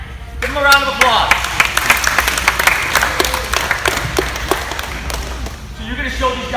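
An audience at a sports camp gathering breaks into applause, sharp claps rising quickly and holding steady, then fading toward the end, with voices talking and calling out over it.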